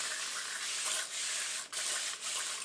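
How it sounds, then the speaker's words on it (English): A spray bottle mists water onto curly hair before the curls are defined with cream. It gives a soft, breathy hiss that runs almost continuously with a couple of brief breaks, close by and quiet. "I'm going to use a spray bottle"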